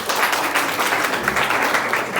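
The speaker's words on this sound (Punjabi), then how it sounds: "ਸ਼ਾਬਾਸ਼ ਤਾੜੀਆਂ ਮਾਰੋ ਬਈ" Schoolchildren at a government high school break into steady, dense applause, many hands clapping together in a continuous, fairly loud wash with no pause.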